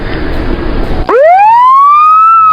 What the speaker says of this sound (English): the sound of police sirens and the roar of emergency vehicles often become a part of life